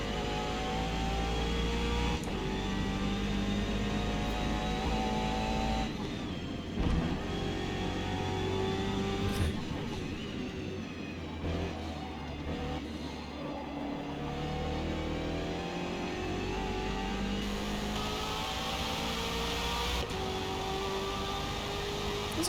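A car in the Forza racing game, heard from an outside view on the Nürburgring, drones and revs continuously with shifting engine pitch through gear changes, loud and steady with no talking.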